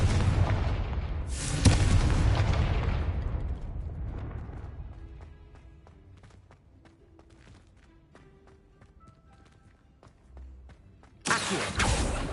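Confringo fire spell explosions in Hogwarts Legacy: loud booming blasts open the scene, decay into quieter crackling and faint tones, then another sharp explosion bursts in near the end.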